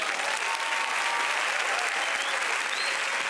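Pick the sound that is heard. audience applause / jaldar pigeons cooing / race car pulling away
audience applause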